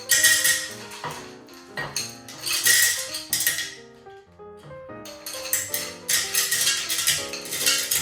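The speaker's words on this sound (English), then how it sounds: "So I'm going to start off with a layer of rock sugar on the bottom in the jar." Hard chunks of rock sugar clink and clatter into a glass jar in bursts of bright, ringing knocks, pausing briefly midway before another round of tumbling pieces.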